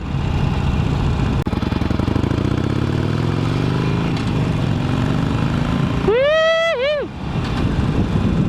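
A Harley-Davidson Roadster motorcycle engine rumbles steadily as it rides, with a brief rising whine partway through and the engine droning on afterward.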